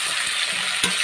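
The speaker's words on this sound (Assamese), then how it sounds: "এতিয়া ভাজি থাকিম যেতিয়ালৈকে ৰঙচুৱা নহয় আৰু গাহৰি মাংসৰ পৰা তেল নোলায়" Pork pieces that were first boiled in a pressure cooker fry in a pan with no added oil, making a brief steady sizzle with one sharp stirring clack near the end, close and without speech.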